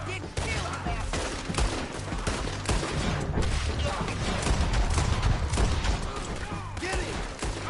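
Rapid, dense gunfire from a Red Dead Redemption 2 shootout, a continuous volley of overlapping shots and bursts that keeps up loudly and close for the whole stretch, with no pause between the rounds.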